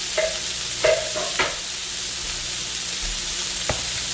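Bacon frying in oil in a pan gives a steady low sizzle throughout, with a few sharp clinks of a utensil against the pan near the start and one more toward the end.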